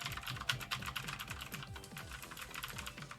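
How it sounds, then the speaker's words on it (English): Rapid typing on a loud mechanical computer keyboard, a dense run of sharp clacking keystrokes heard up close with no voices. "I'm gonna just make some noise on my keyboard and we'll see if that's it."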